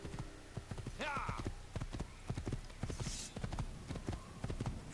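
Steady rhythmic clip-clop of horse hooves galloping in the video game Assassin's Creed, with a brief whinny and someone talking over the hoofbeats throughout.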